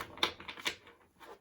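A deck of tarot cards is shuffled in a few short, crisp clattering bursts, close and fairly quiet, with brief pauses between them.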